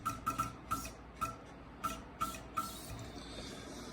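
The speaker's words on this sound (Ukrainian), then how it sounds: "От це так новий розпилювач працює." A new diesel fuel injector nozzle fires on a test rig in a workshop, giving a series of short sharp hissing spurts at uneven intervals, faint and close, with no talking.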